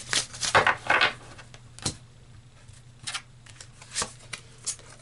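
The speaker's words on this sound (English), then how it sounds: "So let's pull one final card here." Tarot cards shuffled by hand in a tight riffle burst, then slower scattered slides and taps of cards being handled, close and clear with no talking.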